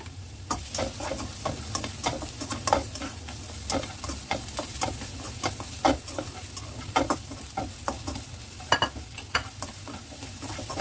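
Garlic frying in a pan for a spicy Japanese tofu dish, a steady close sizzle punctuated by repeated clicks and scrapes of stirring.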